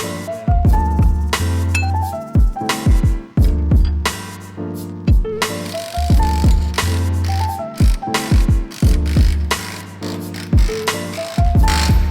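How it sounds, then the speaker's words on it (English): Metal parts are squeezed in a bench vise during an overland gear hauler build, with loud, close ratcheting clicks and metallic clanks in uneven bursts and no voices. "I gotta go pinch them on the vise"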